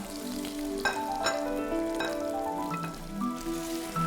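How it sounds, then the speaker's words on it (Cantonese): Blanched pork belly stir-fries in a hot clay pot coated with oil, giving a steady sizzle with scraping stirs and clinks against the pot. "沙煲淋油燒熱，經過飛水5花肉入煲翻炒。"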